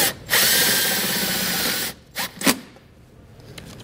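A power drill spins up loud and close, driving a self-tapping screw into a vehicle firewall in one sustained whir, followed by a couple of short bursts as it finishes.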